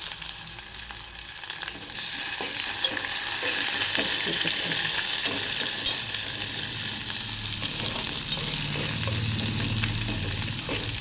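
Garlic and green chilies sizzle in hot oil for a buttermilk sambar, a steady crackling fry with scraping stirring strokes throughout, close and fairly loud.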